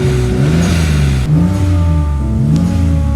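A BMW E30 with a swapped-in N54 engine revving loudly up close, three rising-and-falling surges of engine pitch with brief dips between, strong and continuous.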